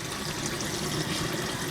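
Cold water poured from a tap over drained paccheri pasta in a colander, a steady continuous splashing rush close by, with no talking.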